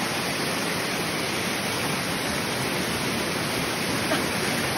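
River current rushing at a river crossing, a steady, dense, even hiss of flowing water that stays constant throughout with no voices over it.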